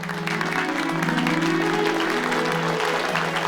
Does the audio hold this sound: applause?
yes